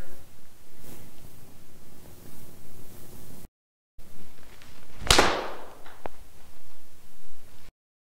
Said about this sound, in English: Now, when I hit a golf shot, let's take a look at this. I'll hit a shot for you here.